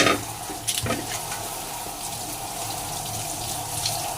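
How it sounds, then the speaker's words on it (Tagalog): Something being washed under a running tap, a steady close stream of splashing water with a few brief knocks and clatters near the start. "Ganito lang maghugas"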